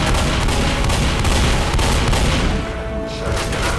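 Dense, loud shotgun fire from the Left 4 Dead survival game on the Blood Harvest bridge map, blasts overlapping almost continuously into a sustained barrage with only a brief dip near the end.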